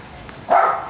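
Single short dog bark on a village street, close and sharp, rising abruptly out of quiet background.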